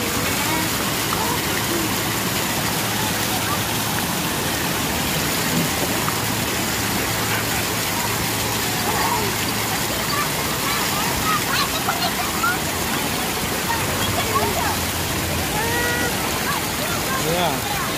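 Steady rushing, splashing water at a Soak City water park, a continuous broad wash throughout, with people talking and calling out over it.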